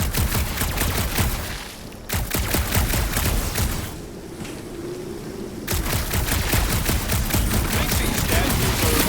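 Rapid bursts of gunfire from a Guardians of the Galaxy video game battle, dense sustained shooting that pauses briefly twice before resuming, loud and continuous with no speech over it.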